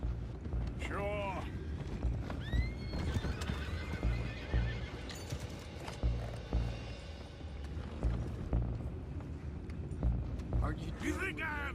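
Horses on a boat in Red Dead Redemption 2, loud whinnies and neighs rising over clattering hooves and a rumbling background, with people talking throughout.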